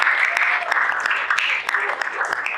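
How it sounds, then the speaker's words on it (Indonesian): A classroom of students claps together after group presentations, a close, continuous wash of clapping with a voice speaking over it. "Beri tepuk tangan untuk kita semua."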